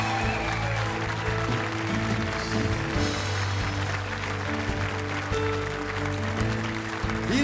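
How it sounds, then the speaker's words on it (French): A TV show studio audience applauding to welcome a family, sustained clapping over a loud background of held musical tones that continue throughout. "Un tonnerre d'applaudissements pour la famille Chino"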